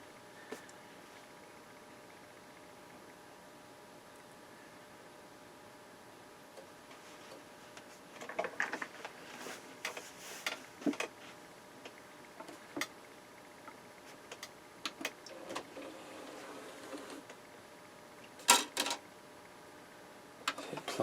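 A Denon DVD-3930CI DVD/CD player powering up, faint mechanical ticking and clicking of the disc mechanism starting after a quiet stretch, with scattered small clicks and whirs close by.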